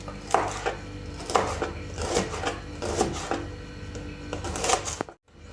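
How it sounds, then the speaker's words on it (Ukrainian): A knife finely chops green onions on a cutting board, giving steady, evenly spaced close taps that repeat for several seconds before cutting off abruptly. "Тридцять грам зелені цибулі нарізаємо дрібненько."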